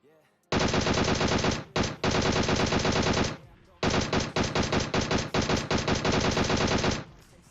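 Bursts of automatic gunfire from the video game PUBG fill the clip, several rapid strings of loud shots separated by short gaps, with faint talk underneath.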